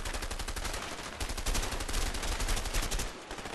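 Rapid bursts of gunfire in the video game A Way Out, a dense, loud, continuous rattle of shots layered over one another throughout.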